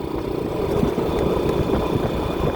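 A Honda TMX Supremo motorcycle engine converted to 200cc hums on a night ride from Cavite to Manila, giving a steady, loud, continuous engine drone with a low rumble throughout.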